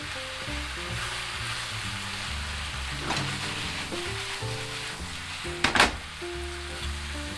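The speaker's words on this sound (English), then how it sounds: "Then quickly mix and toss everything until the sauce thickens and all the ingredients are well coated." Chicken breast and vegetable stir-fry sizzles steadily in a hot pan, with repeated scraping and tossing clatters from mixing, one sharp louder clank near the end; no voices.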